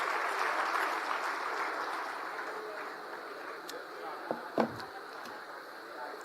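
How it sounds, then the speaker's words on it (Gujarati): A crowd at a political rally claps to welcome Gopal Rai. The applause is loud, sustained and dense, then thins and fades near the end with a couple of isolated knocks. "જોરદાર તાળીઓથી ગોપાલ રાયજીને વધાવીએ"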